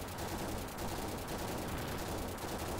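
Dense, continuous rapid-fire gunfire from the Terminator 2 arcade game on the Sega Genesis, a loud unbroken fusillade of machine-gun bursts with no talking.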